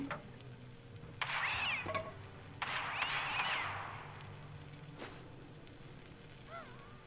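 A cat meows inside the Fallout 76 video game, its drawn-out, wavering cries rising in a couple of loud bursts over a low background hum, then a softer, shorter meow near the end.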